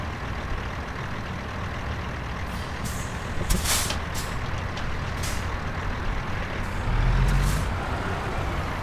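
A heavy truck backs a trailer in American Truck Simulator during a night run from Carson City to Pioche: a constant loud diesel rumble, sharp hisses of air brakes, and a low engine swell near the end, with no voices.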